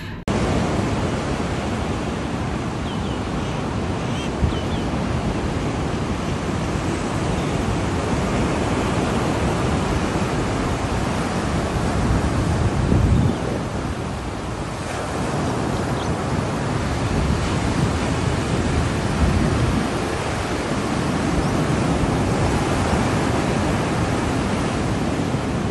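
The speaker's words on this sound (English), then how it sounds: "I love the sound of the ocean" Ocean surf rolling onto a Durban beach, a steady loud wash of breaking waves with wind noise throughout and no voices.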